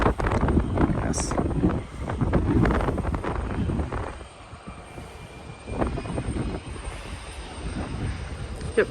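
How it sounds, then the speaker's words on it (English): A small private jet passes at Bluegrass Regional Airport in Lexington, Kentucky, its broad engine roar loud at first and then easing off, with wind buffeting the microphone and brief bursts of talk. "Yep, another little private jet."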